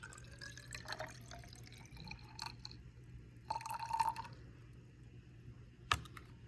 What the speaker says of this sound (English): So I need 40 milliliters of water to be poured into my graduated cylinder.